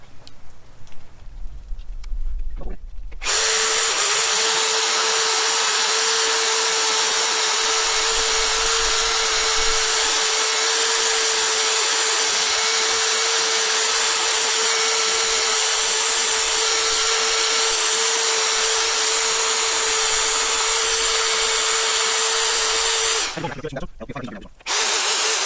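A power polisher fitted with an 800-grit pad runs at a steady high-pitched whine with a constant tonal hum for about twenty seconds. Brief handling noise comes before it and as it stops.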